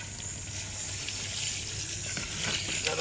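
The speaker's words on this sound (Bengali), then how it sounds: "এখন দিয়ে দেবো পরিমাণ মতো জল।" Water pours steadily into a clay pot of country chicken curry with potato and papaya, a soft continuous gushing at moderate distance with a low background hum.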